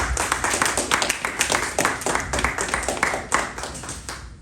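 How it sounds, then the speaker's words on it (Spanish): A church congregation claps during a sermon, with quick, steady hand claps that are fairly close and fill the room, then fade slightly at the end. "Denle una ofrenda de palmas al Señor."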